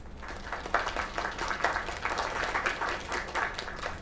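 Applause from a crowd in the video game Lake: dense, steady clapping that fills the moment at a moderate level.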